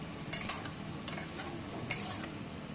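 Ridge gourd curry being stirred in a pan over a soft sizzle, with three distinct scraping sweeps of the spoon standing out, close by, with no talking.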